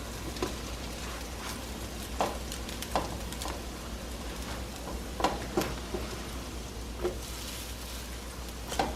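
Salmon croquettes sizzle steadily in a hot pan with a continuous frying hiss, broken by scattered louder pops and crackles every second or so, close up and with no talk.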